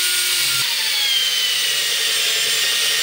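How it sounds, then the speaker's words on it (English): A steady, harsh high-pitched grinding of a drill cutting straight through aluminum, continuous and close, with no talking. "Just drill straight through."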